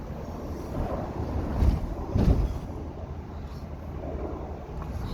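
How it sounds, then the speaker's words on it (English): Strong wind gusting during the Hay River forest fire, a steady roaring rush against the microphone with two heavier buffets midway. "The wind is getting on"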